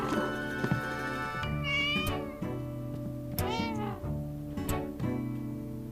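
Several cats meow in repeated rising and falling calls over a steady background of music in a drama scene, fairly close and clear, with no talking.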